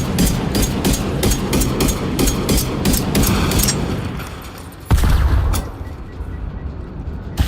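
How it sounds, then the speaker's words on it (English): Gun shots in the survival shooter Generation Zero strike a resource node to mine it, firing as a rapid, loud burst of sharp reports that tapers, then a heavier hit followed by a few scattered shots. "I'm just mining with a gun."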